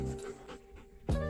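Dog panting softly during obedience training, a few quick breathy pants close by, then a short louder burst at the end.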